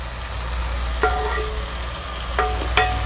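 A pan of chicken and mushroom stew sizzles steadily as meat juices are added, a soft continuous frying hiss with a few brief louder spits and stirring clicks.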